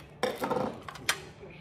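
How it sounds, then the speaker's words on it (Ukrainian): Several light clinks and clatters of dishes being handled close by, a cluster of knocks followed by a sharper ring, with faint voices in the background. "Далі посуда."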